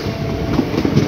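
A Pilibhit–Bareilly City passenger train, number 30258, hauled by a WAP-7 electric locomotive, rushes past very close and loud, its wheels clattering over rail joints in a dense rumbling roar.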